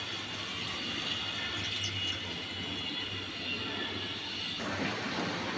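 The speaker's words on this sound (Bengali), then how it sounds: "এখন মশলার উপরে কষানোর পরে দিয়ে দেবো পানি।" Water is poured into a cooking pan over fried spice paste for a potato and fish curry, a continuous rushing splash that runs steadily throughout with no talk.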